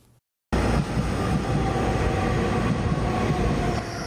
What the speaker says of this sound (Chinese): 火车入站，人客行李赶咧准备要上车